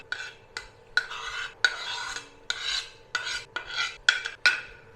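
Egg batter with coriander leaves, carrot and chili is mixed by hand in a bowl for a Kolkata street-style egg paratha, a series of brisk scraping, sloshing strokes in uneven bursts, close and fairly loud, with no voices.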